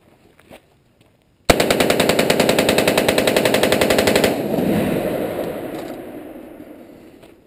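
A suppressed FERFRANS SOAR-P AR short-barreled rifle fires one long full-auto burst of rapid, evenly spaced loud shots, then cuts off into a fading outdoor echo.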